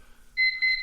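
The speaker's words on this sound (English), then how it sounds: "There's the timer." A kitchen-style timer going off indoors, a short bright electronic beep that starts softly and then sounds in two louder pulses, near and clear over quiet background.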